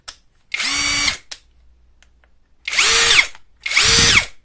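MLHY 20V cordless drill motor spinning up in three separate bursts, each about half a second to a second long with a rising whine, close and loud, with quiet gaps between runs.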